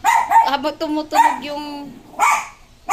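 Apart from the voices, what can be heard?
pet dog barking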